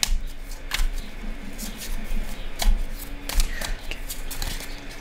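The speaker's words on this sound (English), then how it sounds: "Shuffle that, because this one feels, it just feels like it needs a better shuffle here." Tarot and oracle cards being shuffled by hand in a series of soft papery riffles and slides, fairly close, with light background noise and no talk.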